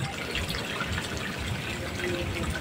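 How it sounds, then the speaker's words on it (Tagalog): Natural hot spring water at a seaside resort in Mabini, Batangas, pumped up from underground, gushing and splashing in a steady, loud, continuous rush with no pauses. "Pinapump lang nila para umakyat yung tubig."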